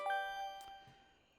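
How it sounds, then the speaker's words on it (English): Phone ringing in the video game Date Everything, a short bright electronic chime that rings once and fades out. "Oh, that's the phone."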